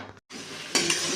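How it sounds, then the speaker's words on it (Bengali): A utensil stirs pieces of chicken coated in turmeric and salt in a pan, making close, soft scraping with a light sizzle. A brief silent gap comes early, and the sound grows louder toward the end. "এখন এটাকে আস্তে আস্তে করে নাড়বো"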